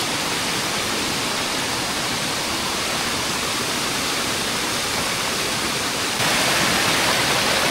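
A waterfall on a mountainside roars as a steady, dense broadband rush that stays constant throughout and swells slightly louder toward the end, with no voices.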